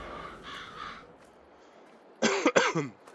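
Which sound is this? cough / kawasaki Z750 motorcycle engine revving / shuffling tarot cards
cough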